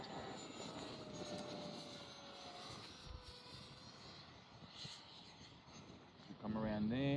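A small 50mm electric ducted fan RC jet whines faintly at idle as it comes in to land, a thin distant hum under wind and a voice, swelling louder near the end.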